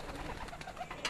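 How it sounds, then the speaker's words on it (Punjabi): Pigeons kept in pairs coo on a rooftop, faint overlapping throaty calls in a short busy stretch with no voices. "ਇਹ ਦੇਖੋ ਕਬੂਤਰ"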